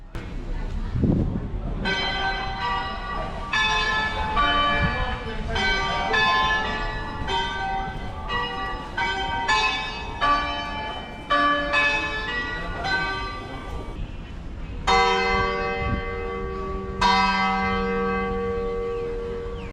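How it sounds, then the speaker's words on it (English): Bells of the Ipoh heritage clock tower chiming outdoors, a loud run of ringing strikes in a steady rhythm with long resonant tails over faint street ambience. "The clock tower bells are still functioning."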